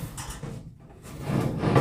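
Metal door of a Masterbuilt smoker being pushed against its frame, hanging too low on its hinges and failing to shut, heard as close dull scraping and knocking rubs across the whole moment.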